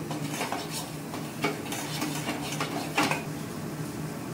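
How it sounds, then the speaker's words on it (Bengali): Flour and butter are stirred in a pan for white sauce, a soft scraping of the spoon with a faint sizzle beneath and a couple of light knocks against the pan. "মিক্স করে নেবো আমি ময়দা আর বাটারটা"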